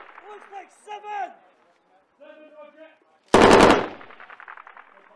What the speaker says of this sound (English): the heavy machine gun fire that they let go just then